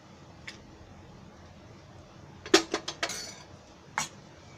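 A spoon stirs oil-free split red lentil dal in a pot. It makes a few sharp metallic clinks and scrapes against the pot, with a quick cluster in the middle and a single knock near the end. The background is otherwise quiet.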